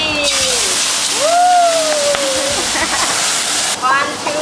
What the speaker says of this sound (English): we add the banana in. But we not keep stirring, we just shake the pan with the fire